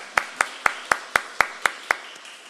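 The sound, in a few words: congregation applauding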